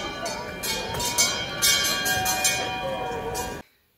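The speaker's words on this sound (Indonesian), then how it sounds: "mereka bawa lonceng lonceng yang biasanya dipakai di leher sapi itu mereka bunyikan dung dung dung dung dung" Cowbells of the kind worn by cattle are rung together at a welcome reception in Switzerland: a dense, continuous clanging wash that stays loud and busy for several seconds, then stops abruptly, with voices mixed in.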